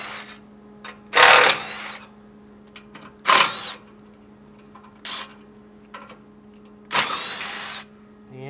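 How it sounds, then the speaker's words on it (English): Bursts of a power tool, likely an impact driver or ratchet, whirring as 12mm head bolts are backed out of a Toyota Tacoma skid bar, four separate close runs of a second or less with quiet gaps between. "Uses 4 12mm head bolts. We're going to go ahead and take these out and remove this guy."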